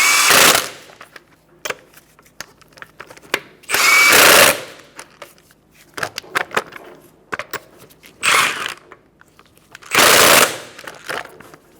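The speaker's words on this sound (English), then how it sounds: "walk the wheel on. And then tighten in a star-like pattern." An impact wrench tightens the wheel lug nuts on a 2014-2019 Kia Soul in a star pattern. It comes as four loud, rattling bursts, each lasting about a second, with quieter clinks and handling noises between them.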